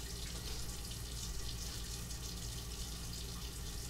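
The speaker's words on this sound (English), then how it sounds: "All I need to do is give this a quick rinse." Steady hiss of water running from a kitchen sink tap as something is rinsed, constant and fairly close with no pauses or voices.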